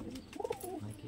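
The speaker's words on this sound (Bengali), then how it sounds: "খুব ভালো ভালো কবুতর রেখেছে দাদা" Pigeons in a loft with bent-beak Ablook Madras birds give one short, soft throaty coo, faint and close, against a quiet murmuring background.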